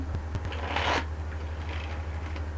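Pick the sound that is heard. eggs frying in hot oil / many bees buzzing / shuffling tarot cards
shuffling tarot cards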